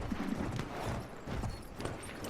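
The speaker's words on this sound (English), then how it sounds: "Does the horse just run forever?" A horse runs in Battlefield 1, its quick hoofbeats thudding faintly amid a dense wash of game noise.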